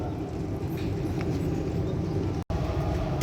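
A steady, heavy rumble of a passing Indonesian passenger train rolls on throughout, loud and close, heard from aboard another train, with a brief cut near the end.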